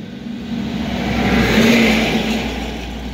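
A car accelerates away through traffic in San Miguel, its engine note climbing and swelling to a peak, then easing off, with a steady road rumble underneath.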